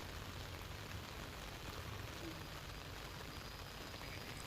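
Monsoon rain pours onto waterlogged roads in Umargam Sanjan, Gujarat, giving a steady, even hiss of falling water that stays faint and unbroken throughout.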